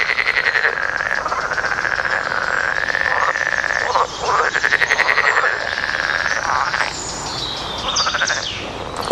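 Male frogs croak loudly and close by in repeated rhythmic calls, some rising and falling, overlapping into a continuous chorus with no talking.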